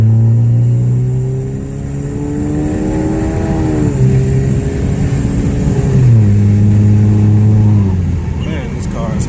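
Chevrolet Cruze Gen 2 fitted with a TD025S hybrid turbo, running on E80 fuel, accelerating hard with a rising engine drone that climbs through several gears, each shift dropping the pitch before it builds again; a driver talks over it.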